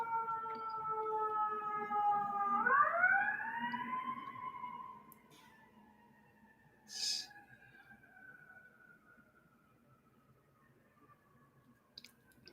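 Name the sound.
ambulance siren passing by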